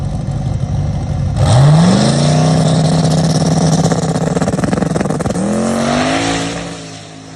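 Drag car with a Turbo 400 automatic transmission and 3.50 gear ratio launching hard, loud engine rising in pitch then dropping sharply at a gear shift around five seconds before climbing again, close and unbroken.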